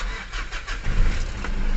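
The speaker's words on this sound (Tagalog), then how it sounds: "Okay po, try natin pandarin ang makina ngayon." A 2009 Mitsubishi Strada manual pickup cranks and catches, its engine starting up nearby and settling into a steady low rumble, loud and close with no talking.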